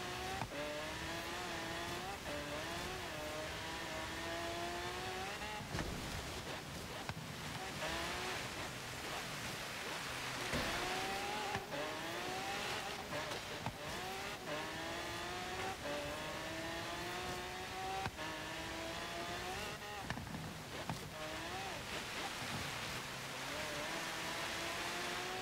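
A 2015 Chevrolet Corvette Z06 racing up a snowy hill climb in Forza Horizon 3, its big front engine revving hard through repeated gear changes with rising and falling pitch sweeps, steady and loud throughout with no talk.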